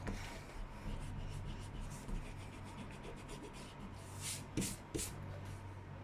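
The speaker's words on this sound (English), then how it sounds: "So rubbing them out." An eraser rubs out pencil lines on paper, giving a faint, close, continuous scratchy rubbing with a few brief louder strokes, and no voices.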